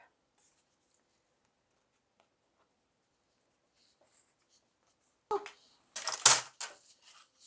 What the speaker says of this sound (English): we want to remove the tape